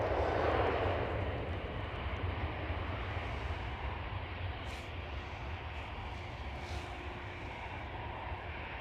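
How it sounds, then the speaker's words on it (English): A British Airways Airbus A319, lightly loaded, departs toward London. Its jet roar is strongest at first and then eases into a steady, fairly distant rumble with no voices over it. "There goes British Airways. A319, sorry, it is."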